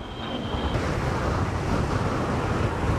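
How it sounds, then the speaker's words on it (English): Strong wind buffets the microphone while riding a Ninebot One E+ electric unicycle, a loud, constant roaring rush that fills the whole stretch with no speech. "this thing is not happy in the wind"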